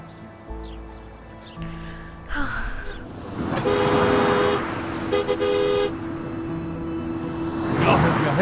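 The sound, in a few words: car horn honking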